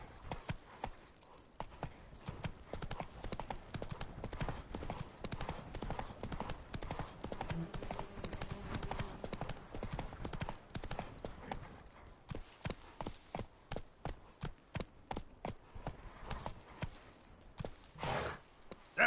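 Hooves of Roach, the horse in The Witcher 3, clop in a steady trotting rhythm, close and clear, slowing to spaced individual steps near the end.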